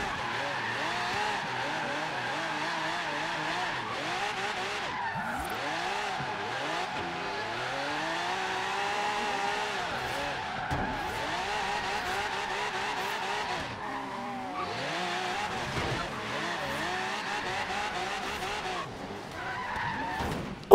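A Lamborghini Aventador drifts in the racing game Forza Horizon 3, its engine note rising and falling in sweeping pitch bends over sustained tire squeal, continuous and loud throughout with a brief lull near the end.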